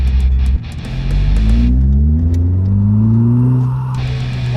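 A Toyota MR2 Spyder with a swapped 2AR engine revs up loudly through rising pitches, shifting and pulling hard from inside the car, with no talking.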